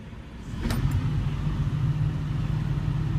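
A Caterpillar 324DL excavator's diesel engine cranks and catches, settling into a steady low rumble that sounds close and fairly loud, with no speech over it.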